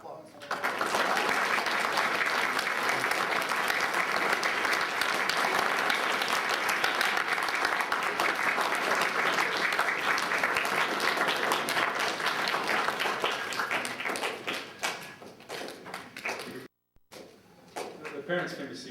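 Sustained audience applause for Eagle Scouts and their parents at a Court of Honor, a loud, dense wash of many hands clapping that holds steady, then tapers, breaks off briefly and resumes more faintly.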